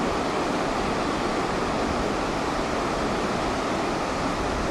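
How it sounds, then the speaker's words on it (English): Steady, broadband roar of surf breaking along a long sandy beach on the wild Pacific coast of Vancouver Island near Tofino, moderate-sized waves washing continuously and evenly with no voices. "Not massive waves"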